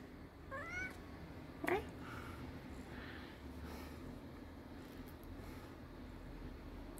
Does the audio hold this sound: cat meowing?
yes